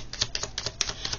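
An oracle card drawn from the deck, heard as a quick run of close, crisp tapping clicks and slides of card against card, with no talking.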